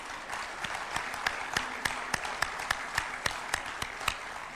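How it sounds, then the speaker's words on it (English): Audience applause at a formal speech event honouring the President of the African Development Bank, a dense even wash of many clapping hands with sharp individual claps standing out at a regular pace. "Let us clap for this man."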